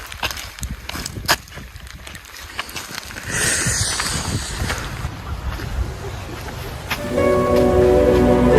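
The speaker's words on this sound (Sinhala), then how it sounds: "මෙන්න වැස්ස චුට්ටක් තද කරා." Heavy rain at Horton Plains in Sri Lanka builds into a dense, steady outdoor roar that grows louder toward the end, with wind buffeting the microphone.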